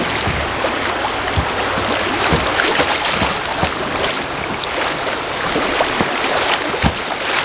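Quick-moving water on the Little Miami River in Ohio rushes and splashes steadily around a kayak under shaded, overhanging trees, with occasional paddle knocks and drips close by.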